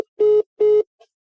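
A telephone rings unanswered: two steady electronic tones, each lasting about a fifth of a second with a short gap between them, then a faint clipped start of a third. The ring is loud and clear, with no talk.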